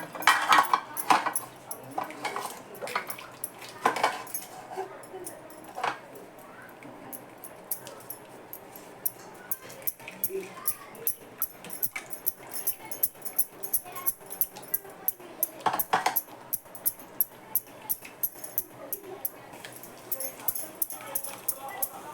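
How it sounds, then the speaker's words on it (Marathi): Halwa mixture is stirred in a pan over high heat, with repeated metallic clinks and scrapes of a spoon against the pan, irregular at first and then quick and rhythmic, while someone talks over it. "एकसारखं हलवत राहायचं म्हणजे गुठळ्या होणार नाहीत"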